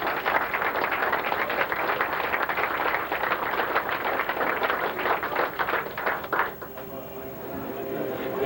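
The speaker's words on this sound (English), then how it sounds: "let's give Bud a round of applause" An audience applauds for Bud, an artist, at a tongue-in-cheek awards presentation: dense, sustained clapping that thins out near the end as the room quiets.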